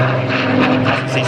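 Spitfire fighter aircraft in a flying display at Cosford, a steady droning piston-propeller engine with a strong low tonal hum, loud and close, briefly heard.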